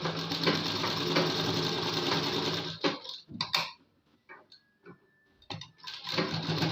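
Sewing machine stitching the shoulder seam of a kurti, a loud steady mechanical whirr with rapid needle ticking that stops midway, leaving a few soft handling clicks before the stitching starts again.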